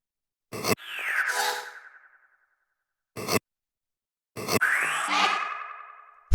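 Processed vocal sound effects for a tech house track: three short bursts, two of them trailing into long echoing, swirling tails, separated by silence.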